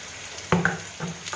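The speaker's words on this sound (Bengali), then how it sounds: "কাঁকরোল আলুটা এমনি ভাজতে ভাজতে আর্ধেক সেদ্ধ হয়েই গেছে" Kakrol and potato pieces fry in a pan, giving a soft sizzle with a few brief stirring knocks, faint and close up with no talk.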